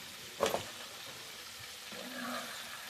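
Chicken wings sizzle and crackle softly in hot oil, with a brief clatter near the start and a quiet steady fry afterward.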